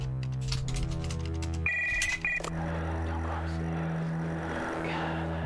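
A ringing telephone in the horror game Stories Untold gives a short electronic ring burst, then stops, leaving a steady low hum and faint room noise.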